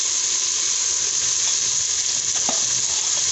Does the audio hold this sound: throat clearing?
no